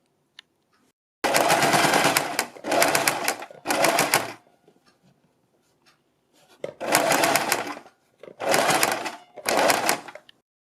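Sewing machine stitching a fabric strip onto the neckline of a suit, in six close, loud bursts of rapid running stitches separated by short pauses.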